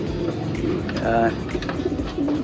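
Pigeons cooing nearby, a few soft low coos over light background noise, with a voice speaking briefly.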